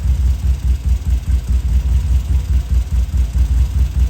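A 948 A-Series engine idles with a close, loud, steady low throb whose pulses beat in an even rhythm, with no voices.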